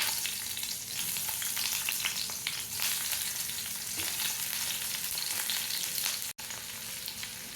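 Chopped onion frying in the same oil used for cashews, making a continuous close crackling sizzle with scattered sharp pops and scraping stirs, and one brief dropout near the end.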